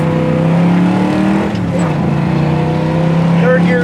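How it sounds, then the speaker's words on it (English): A 1970 Chevy Nova SS engine drones loud and close with a steady low exhaust tone, rising slightly as it pulls away on a hard takeoff, with faint voices under it. "I'll wait for one more good takeoff here to show you guys."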